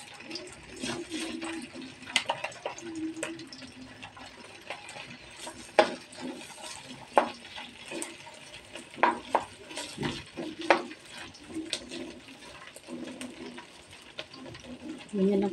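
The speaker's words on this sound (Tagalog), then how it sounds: "Pagkatapos po nyan ay pina-fried ko muna yung shrimp or hipon." Shrimp fry and get stirred in a pan for a garlic shrimp and kangkong sauté, giving a soft, steady sizzle with scattered scraping and clinking strokes at close range.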